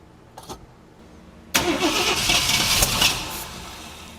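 A 1966 Ford Thunderbird engine with a freshly rebuilt carburetor cranks briefly, then catches and roars into a loud, rough idle with uneven revving, close by.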